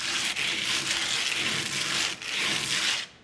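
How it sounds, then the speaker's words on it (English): A sanding disc scrapes steadily across painted stencil letters on a distressed, aged wooden sign, a continuous gritty rasp with brief dips as the disc shifts. "So we're just gonna take this sanding disc and we're going to let it travel."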